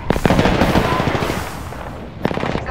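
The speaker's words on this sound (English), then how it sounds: "Throwing Archstar. Thermite grenade out." In-game combat erupts after a thermite grenade is thrown in a shooter video game, dense rapid bursts of loud crackling fire and blasts, easing off before a fresh burst of shots.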